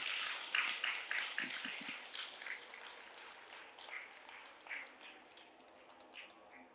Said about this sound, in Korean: 재밌는 분들이면 박수 한번 쳐주세요.